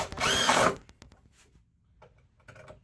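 A power drill drives a reused screw into wood shelving in a garage shed, one loud burst of whining motor that cuts off, followed by faint ticks and light handling noises.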